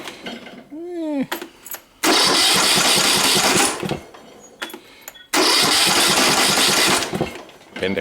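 Briggs and Stratton OHV small engine with a hard-start crank problem, valve cover on and spark plug removed, cranking in two loud sustained bursts separated by pauses, with a voice speaking briefly at the start.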